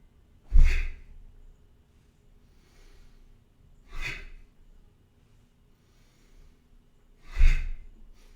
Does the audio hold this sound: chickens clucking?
no